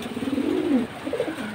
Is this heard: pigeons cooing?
yes